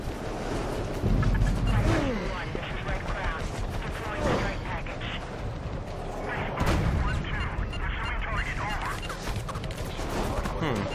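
Turret gunners firing in the video game Prototype 2: dense bursts of rapid gunfire and heavy booms, loud and continuous, with several louder blasts rolling through a cluttered game soundscape.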